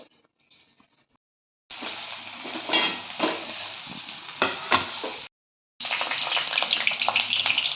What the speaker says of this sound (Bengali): তেল দিয়ে দিয়েছি এবার আলুগুলো ভেজে নেবো